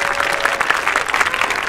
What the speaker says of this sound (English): Let's give, first of all, a round of applause for all the students.